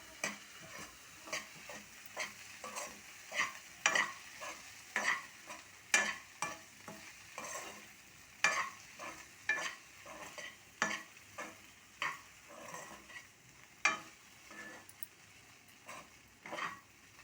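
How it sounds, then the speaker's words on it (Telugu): Leftover idli pieces stirred and tossed in a pan for butter idli, a spoon scraping in a steady rhythm of repeated strokes over a soft background sizzle, close and clear with no talk. "అందులో వేసి బాగా మిక్స్ చేయాలి"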